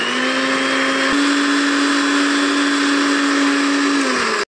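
An electric blender grinds coriander leaves into paste, a loud, steady high whir running several seconds with a brief pitch shift, then cutting off abruptly.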